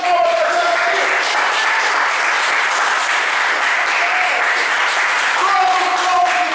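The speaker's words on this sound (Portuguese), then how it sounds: "Dá uma salva de palmas para Jesus." A church congregation bursts into sustained applause for Jesus, dense clapping filling the space steadily for several seconds, with a few voices mixed in.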